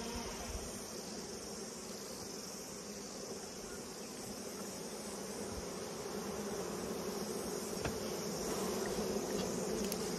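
Honeybees swarming around an open beehive during a honey harvest, a dense, steady droning hum close by, with occasional faint clicks and bumps from handling the hive.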